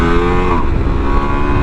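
A Ducati Multistrada V4 Rally motorcycle engine revs up close and loud, its throaty tone swelling briefly and then settling into a steady, gruff idle.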